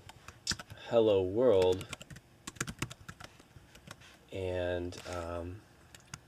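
Quick clicking keystrokes on a computer keyboard while writing a first Python program, the light taps scattered between and under a person speaking.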